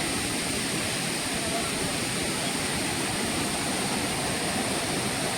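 Savdav river flowing near the Kankavli waterfall, a steady, loud broadband rush of water that stays even and unbroken throughout, with no distinct separate sounds standing out.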